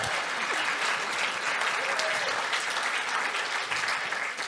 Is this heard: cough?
no